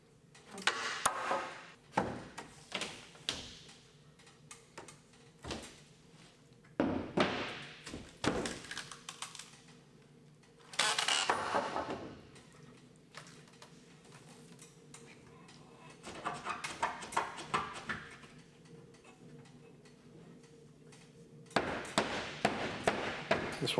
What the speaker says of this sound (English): Now we can knock our studs out of our drywall.